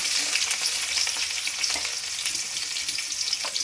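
Onions with mustard seeds and curry leaves fry in hot oil, making a dense, continuous close-up crackle that stays even and loud for a few seconds with no talking.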